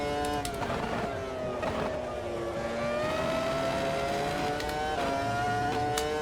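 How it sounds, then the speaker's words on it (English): A race car engine in a racing video game holds a steady, loud drone with stuttering pitch dips as the traction control cuts in, brief revs rising and falling throughout. "You can hear that traction control kicking in."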